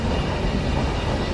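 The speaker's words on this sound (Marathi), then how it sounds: "ट्रेन गेली." A local train rolls past close by, a loud, steady rumble with a dense rattle of wheels and carriages that holds the whole moment without a break.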